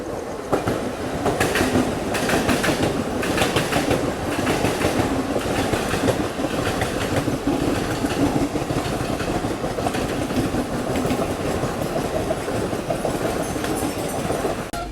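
The Ajmer Mysuru Express rolls along the rails on its approach to Vasai Road station in Mumbai, with a loud, continuous rumble and rhythmic clickety-clack of the wheels heard up close from inside the carriage, no talk.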